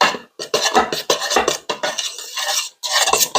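A spoon works through a sticky marshmallow rice krispie mixture in a pot while pumpkin pie spice is sprinkled in, giving close, irregular bursts of scraping and clinking separated by short pauses.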